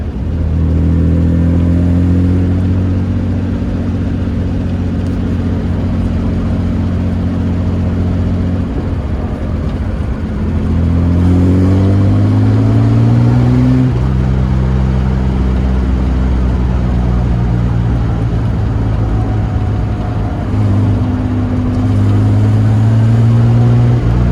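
An Austin-Healey 3000 BJ8 sports car engine, about 60 years old, pulls hard through the gears, rising in pitch with each shift and dropping back, loud and close for the whole stretch.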